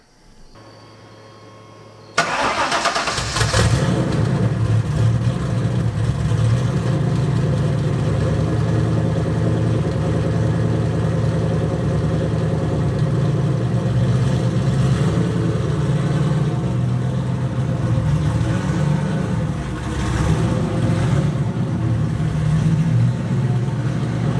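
A turbocharged S550 Ford Mustang engine starts with a sharp catch and settles into a loud, rumbling idle, deep exhaust drone holding steady throughout with slight surges, at night.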